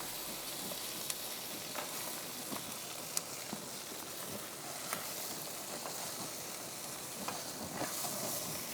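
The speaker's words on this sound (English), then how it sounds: "start to render out the fat and crisp the skin up" Chicken skin for a teriyaki bowl frying and crisping as the fat renders in a pan: a steady close sizzle and hiss, dotted with small pops and crackles at scattered moments.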